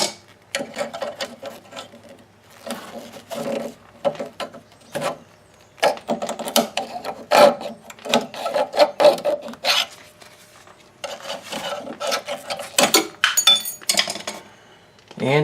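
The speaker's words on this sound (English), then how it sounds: "get the brake line removed from the strut tower. So I'll go on ahead and get that one pulled out the rest of the way." A brake line on the rear strut of a 1999 Ford Contour being worked out of its strut tower clip, heard as bursts of scraping, rubbing and clinking metal with short pauses between efforts.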